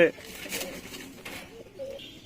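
Pigeons in a fancier's loft, including a Nepali hen, give soft, low cooing calls close by, a few short warbling phrases over about two seconds, with a person talking and some rustling noise around them.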